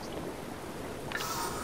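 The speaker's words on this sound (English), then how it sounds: "Oh, no, the rain's still here." Rain in The Legend of Zelda: Breath of the Wild: a soft, steady patter of falling rain with a brighter rush and a small chime near the end.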